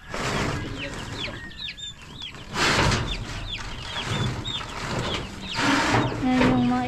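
Chickens cluck and chatter in a coop, a mix of short calls and a few rooster-like notes, fairly close and continuous alongside rustling and some knocking.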